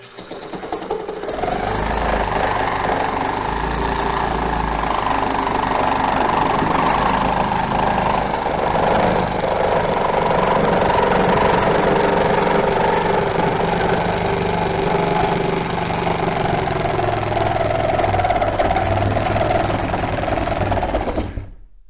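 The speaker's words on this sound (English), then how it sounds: "So there is a lot of this idea about body position and angle of your saw while you're making the cut." A handheld reciprocating saw runs through a steady cut for about twenty seconds, a loud continuous motor buzz with a rapid blade stroke, close to the mic, with no talking.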